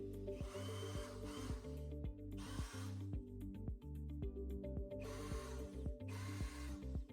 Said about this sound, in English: we're gonna start drilling